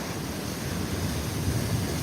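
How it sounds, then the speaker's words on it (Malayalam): A steady roar of rough sea waves at Ponnani beach, dense and continuous with wind buffeting the microphone, no distinct voices. "പൊന്നാനി കടപ്പുറത്ത് നല്ല തിരമാല ഉണ്ട് കേട്ടോ രക്ഷയില്ലാത്ത തിരമാലയാണ്"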